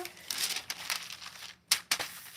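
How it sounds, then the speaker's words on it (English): Parchment paper crinkles close by while being laid out for a ball python, giving soft rustling bursts and two sharp crackles near the end. "More parchment paper so the noodle doesn't get all dirty."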